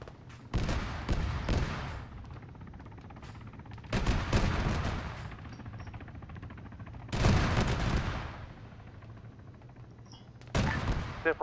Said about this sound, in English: We're under a lot of fire.